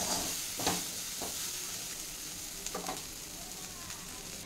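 Raw banana slices fry in a pan with a faint, continuous sizzle and hiss, marked by a few soft stirring scrapes.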